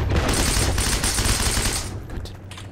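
Rapid bursts of automatic gunfire from the World War II shooter game Heroes and Generals, loud and dense for about two seconds before tapering off.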